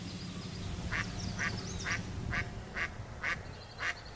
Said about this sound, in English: ducks quack and chase each other through the sky